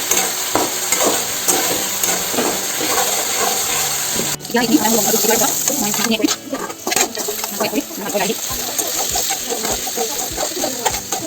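Steady scraping and sizzling of spices, bay leaves and pigeon meat being stir-fried in a pan, with spoon clatter throughout and faint bird calls in the background.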